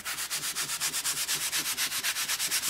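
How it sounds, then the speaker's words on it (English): A loopy scrubber wipes fuzz off a rotary cutting mat in fast, even back-and-forth strokes, a rhythmic scratchy rasp about seven strokes per second, close and clear with no talking. "simply wipe away all the fuzzies"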